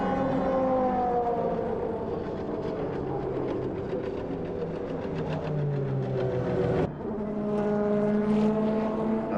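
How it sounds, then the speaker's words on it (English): A wrecked FFSA number 57 Chrysler Viper race car, damaged at the 2001 Le Mans 24 Hours, is dragged back to the pits, producing a loud continuous grinding scrape layered with droning, wavering tones that dip briefly near the end. "That terrible scraping noise you can hear is indeed the remnants of the FFSA number"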